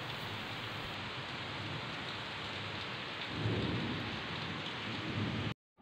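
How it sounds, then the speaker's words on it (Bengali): Heavy downpour with thunder, a dense steady roar of rain on surfaces and a low rumble swelling midway, heard outdoors with no voices. "মুষলধারে বৃষ্টি হচ্ছে আর তেমনি বাজ পড়েছে"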